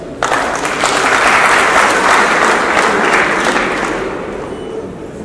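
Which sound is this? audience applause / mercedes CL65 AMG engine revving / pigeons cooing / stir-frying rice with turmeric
audience applause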